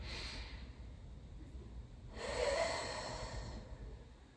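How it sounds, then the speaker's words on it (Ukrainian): A long, slow, drawn-out exhale during a back-stretching exercise, a soft airy breath that swells for about a second and a half and then fades, quiet and close. "Довгий, довгий розтягнутий повільний видих."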